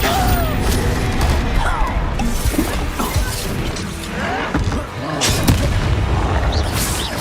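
Spell explosions in the Hogwarts Legacy video game, with repeated heavy booms, crashes and shattering debris in a dense, loud battle mix. Whooshing effects are also heard.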